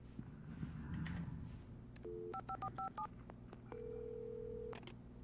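Telephone keypad dialing in the Alan Wake video game: a steady tone pair, then a run of short, evenly spaced beeps with a longer held tone at the end. The sound is close and clear over a low background hum, and nobody speaks.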